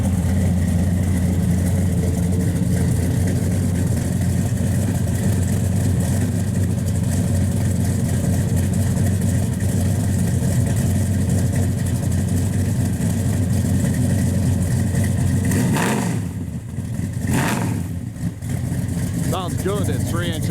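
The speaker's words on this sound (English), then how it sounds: "Sounds good at 3-inch exhaust." A 1971 Chevrolet Chevelle SS 454 V8 with 3-inch exhaust idles with a loud, deep, steady rumble, then drops briefly with a couple of sharp throttle blips near the end.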